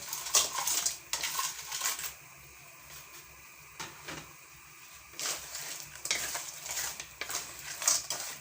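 Crab goes into a pot of coconut-milk stew with squash and string beans, giving irregular clattering, scraping and clinking bursts of shell and utensil against the cookware, close by, separated by quieter gaps.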